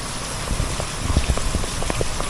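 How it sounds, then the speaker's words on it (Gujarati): Heavy rain in Mendarda, Gujarat, pours down as a dense, steady hiss with close patters of drops striking a surface. "અનરાધાર વરસાદ પડી રહ્યો છે"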